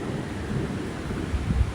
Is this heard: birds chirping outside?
no